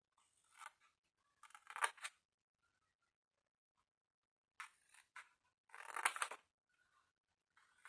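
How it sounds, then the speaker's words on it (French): Scissors cutting paper for a scrapbook drawer, two separate bursts of crisp snipping, each made of a few quick close cuts with near silence between them. "Il se gère avec des ciseaux."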